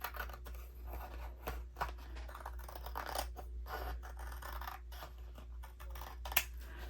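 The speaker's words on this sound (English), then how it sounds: "I'm just going to trim off just a hair" Scissors snip in a quick series of short, sharp cuts, trimming a thin sliver off paper for a denim journal, close and crisp over a quiet room.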